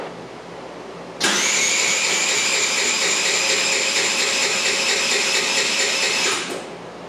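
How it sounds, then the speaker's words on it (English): A scooter engine cranks over steadily for about five seconds during a compression test, a loud, even mechanical whir with a regular rhythm that starts abruptly and stops cleanly, with no voices. "I am going to crank this scooter for 5 seconds and we'll see what she runs."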